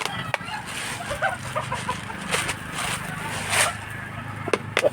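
Chickens cluck softly nearby amid scratchy scraping and pecking sounds, as though feeding on scattered grain.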